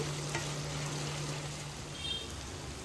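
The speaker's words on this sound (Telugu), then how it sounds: "ఇలాగా కలుపుతూ వేయించుకోండి, లేదంటే అడుగంటుతుంది." Butter chicken masala being stirred and fried in a pan gives a steady, even sizzle with soft scraping from the stirring, close by and constant throughout, with a low hum underneath and no talking.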